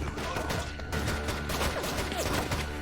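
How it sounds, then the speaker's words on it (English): Rapid bursts of gunfire in a Batwoman TV episode crackle in quick succession, loud and dense, with clattering impacts mixed in. "Tavarov, why do I hear gunfire?"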